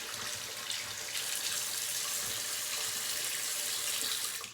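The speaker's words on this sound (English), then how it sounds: "you want to get hot water, like not scalding hot, but pretty hot" Hot water runs steadily from a tap into a sink, a continuous broadband rush that stays loud and even throughout, then cuts off sharply at the very end with no talking.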